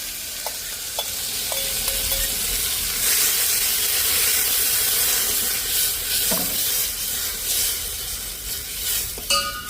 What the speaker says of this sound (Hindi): अब छौंकन का काम करेंगे